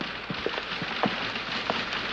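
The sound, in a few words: rain falling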